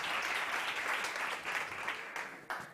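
Audience applause welcoming a startup presenter at a South Summit 2018 education pitch competition, a steady dense wash of clapping throughout that thins briefly near the end.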